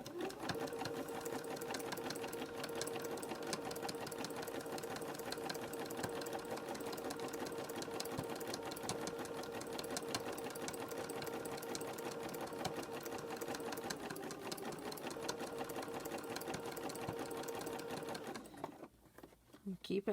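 A sewing machine runs continuously at an even, rapid pace while stitching fabric-wrapped rope into a bowl, with a voice talking over it before the motor stops near the end.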